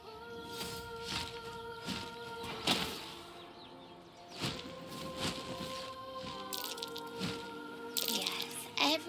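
Water dripping in Baldur's Gate 3, a scattering of light irregular drips and splashy plinks over a steady tonal game ambience, mid-distance and moderately loud, with brighter bursts near the end.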